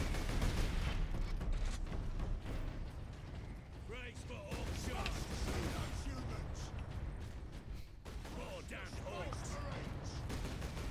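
Gunfire and mechanical clatter in Warhammer 40,000: Space Marine Anniversary Edition, with repeated shots and metallic rattles running steadily through the stretch under a dense game soundscape, while a voice talks over it.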